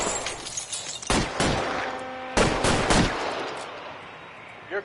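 Bursts of gunfire in a PS4 shooter game, several sharp volleys a second or so apart with a ringing tail, loud and close over a busy background.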